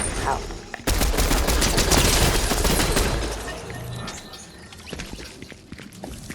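Rapid automatic MK Alpha rifle fire in a Fortnite match crackles in a dense, loud burst for about two seconds, then thins into scattered shots and faint chirps.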